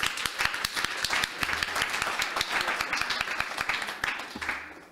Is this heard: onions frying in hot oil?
no